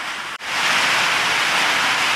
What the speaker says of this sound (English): Sorry about the audio. It won't stop raining.